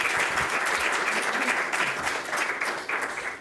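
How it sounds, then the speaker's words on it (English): An audience in a church service applauds steadily, dense clapping from many hands filling the whole stretch at an even level with no voices over it. "Give them a round of applause."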